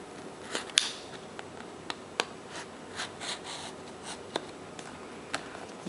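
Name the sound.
unboxing a Samsung Galaxy SIII phone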